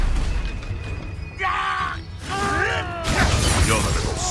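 A Confringo fire spell in Hogwarts Legacy, with crashing blasts and crackling magical bursts landing in quick succession amid fighting noise, while voices shout over the action.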